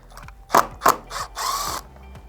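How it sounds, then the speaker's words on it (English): Two sharp mechanical bursts followed by a longer whirring rattle from an impact driver with a T20 Torx bit backing out screws on a Steelcase Gesture chair, close and alone against a quiet background. "then going to take our screwdriver or impact driver with a T20 Torx bit, and we're going to remove these two screws holding this black piece on here"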